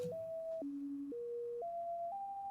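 Pure synth tones made in Ableton with random sample-and-hold pitch modulation spanning about an octave step between pitches, each held about half a second before jumping abruptly up or down, playing cleanly and alone at a moderate level.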